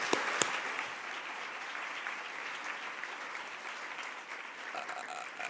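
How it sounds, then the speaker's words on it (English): Sustained audience applause fills the space, steady clapping from a sizable crowd that holds at an even level throughout. "Big round of applause."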